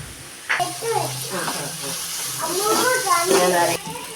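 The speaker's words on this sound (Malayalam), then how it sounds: "സവാള വഴന്ന് വരുമ്പോഴത്തേക്ക്" Onions sautéing in a pan for a Kerala potato curry: a steady bright sizzle with scraping stirs, while a voice talks over it throughout.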